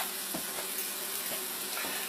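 Minced garlic sizzles in olive oil in a pan, a steady close hiss broken by a few soft stirring taps.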